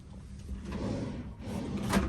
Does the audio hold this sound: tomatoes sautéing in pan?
no